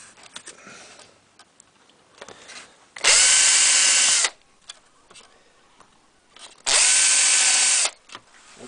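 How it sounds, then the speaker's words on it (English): A power drill bores a pilot hole while fitting a kit to adapt an AICO Ei168 alarm, running in two loud, steady whining bursts of about a second each, separated by quiet. "Now I can drill those through. I'm just going to put a pilot through first."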